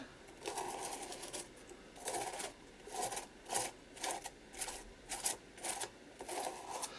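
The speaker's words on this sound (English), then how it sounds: "I'm going to grab some texture paste or structure paste, whatever you want to call it, whatever you want to use, and I'm just going to scrape it through" Texture paste is scraped across a mixed-media moodboard surface with a palette tool in a series of about eight short, raspy strokes, each a soft gritty swipe separated by brief pauses, fairly close and moderately quiet.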